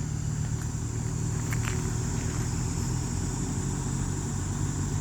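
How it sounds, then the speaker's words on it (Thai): Steady engine hum of a vehicle brought in to haul away tree stumps at a site where soil has been dumped for an entrance slope, idling continuously and fairly close with a constant low drone, no talking. "ตอนนี้ก็จะเอารถมาขนตอออกด้วย"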